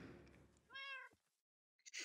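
A cat meows once in the Minecraft video game, a clear harmonic cry standing alone after a burst of background noise, followed by a short soft thump.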